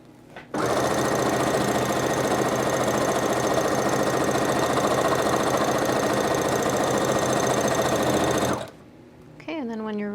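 A Project Runway Brother sewing machine runs with its pedal pressed, sewing fabric in one continuous, even, rapid mechanical hum for about eight seconds before stopping abruptly, close and loud, with a voice starting just after.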